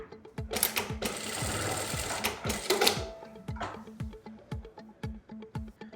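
A ZOJE A7200 automatic lockstitch sewing machine runs in quick bursts of rapid mechanical stitching, with a whirring run, pauses, and distinct clicks and thumps from the presser foot and thread trimmer, close and clear.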